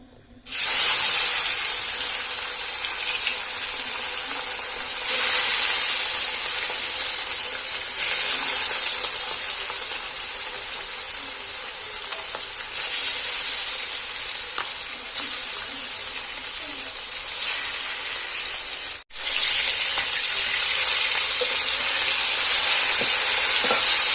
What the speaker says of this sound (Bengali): এবার মাছটা ভেজে নিচ্ছি